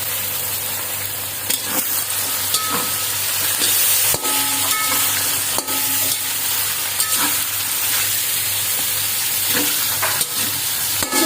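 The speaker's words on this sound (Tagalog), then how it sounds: "Gisa natin siya ng konti para lumambot." Carrots and sweet potato sauté in a pan for vegetable lumpia, with a continuous loud sizzle and hiss broken by occasional sharp clicks from stirring.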